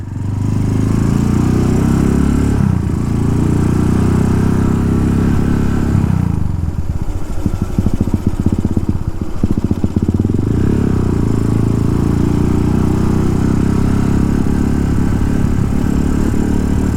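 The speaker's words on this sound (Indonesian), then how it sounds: "Ini motornya nggak bisa diajak jalan pelan" Motorcycle engine running steadily as it rides through the streets of Bali, from Dalung Permai toward Kerobokan, a loud, close, continuous low rumble with brief rough wind-buffeting patches partway through and no talk.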